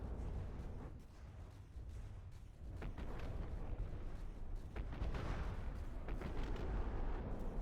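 Rail-assisted naval guns firing in a warship video game, a dense, continuous rumble of heavy booms and blasts rolling on loudly throughout with no voices.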